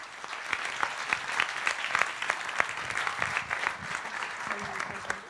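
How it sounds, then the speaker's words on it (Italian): Audience applause at a research and innovation conference, a steady, moderately distant clapping from a seated crowd that holds at an even level throughout. "un altro applauso a Rosa e a Marco."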